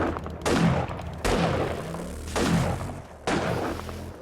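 Turrets in the game 7 Days to Die fire in four separate loud bursts, each a booming salvo that rings out and decays before the next, spaced roughly a second apart with no speech.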